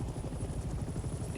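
Supply helicopter in Hell Let Loose: Vietnam gives a steady, loud low rotor thump and engine drone that fills the whole moment without a break.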